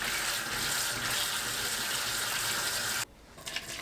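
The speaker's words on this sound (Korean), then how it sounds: "삶은 메추리알을 물에 헹굽니다." Boiled quail eggs rinsed under a running tap, a steady broadband rush of water for about three seconds that cuts off abruptly, followed by faint drips and splashes.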